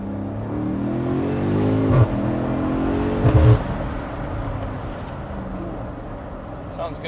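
Close, loud engine noise from a BMW M5 F90 V8 on a street swells and revs with a couple of sharp exhaust pops, heard from inside with a voice speaking over part of it.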